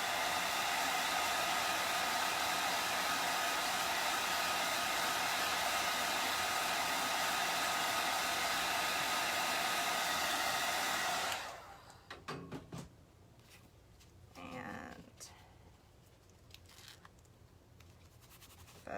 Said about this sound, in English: So grab my dryer and dry this.